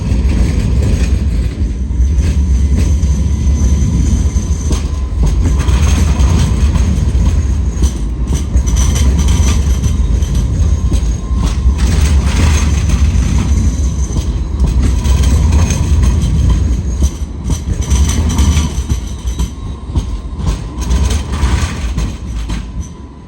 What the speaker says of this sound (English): Let's wait for this tram, yeah?